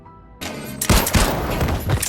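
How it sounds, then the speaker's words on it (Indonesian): Gunfire during an attack scene in the film The Family Plan: a dense, loud burst of rapid shots that starts abruptly and keeps going as a blind volley, alone and close. "tembakan yang membabi buta."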